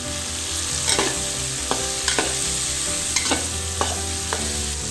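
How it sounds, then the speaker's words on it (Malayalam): Chopped onions with mustard seeds frying in a pan: a steady sizzle with repeated scraping stirs and light clinks at irregular intervals, close up and with no one talking. "നമ്മളിതിലോട്ട് സവാള അരിഞ്ഞിട്ടുള്ളത് ഇട്ട് കൊടുക്കുകയാണ്."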